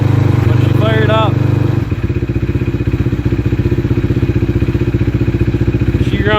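A 2006 LTR quad fitted with hot cams, a GE piston, a ported head and a Yosh exhaust catches after a cold start and settles into a loud, close, steadily chugging idle, with a brief chirp-like sound early on.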